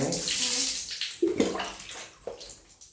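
Tap water runs and splashes in a bathtub while a child's hair is washed, a soft continuous rush broken by a few louder splashes and brief close sounds, with a voice faintly present.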